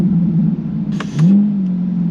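Chevrolet Corvette C8 Stingray Z51 with an AWE exhaust, its engine idling with a deep steady rumble, then blipping into one short rev that rises and settles back to a loud, close idle.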